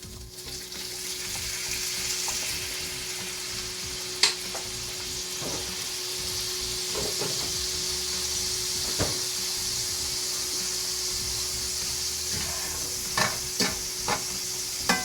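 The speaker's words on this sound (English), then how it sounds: "And I'm just gonna grill it up a little bit." Roast pork splashed with Worcestershire sauce sizzles on a hot grill, a steady close hiss broken by occasional taps and scrapes of a utensil.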